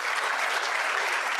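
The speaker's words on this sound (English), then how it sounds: "another round of applause for all the good work that these organizations are doing" Dense, steady applause from a Rotary club audience at a meeting rolls on without a break, a broad even wash of many clapping hands at full strength from start to finish.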